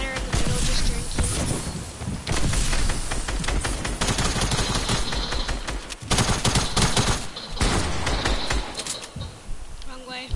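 Rapid video game gunfire in Fortnite, dense bursts of automatic shots and clattering fire running almost continuously, loud and close, with a brief lull around the middle before the shooting resumes.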